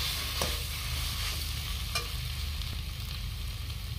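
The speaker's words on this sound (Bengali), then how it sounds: "সেদ্ধ করে রেখেছিলাম সেই আলুটা দিয়ে, আলুগুলো দিয়ে একটু ভাজা ভাজা করে নেব" Boiled potatoes fry in a hot pan with steady, close sizzling and soft stirring scrapes throughout, with no voices.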